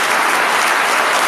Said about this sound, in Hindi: जबरदस्त माहौल के लिए जबरदस्त ताली होना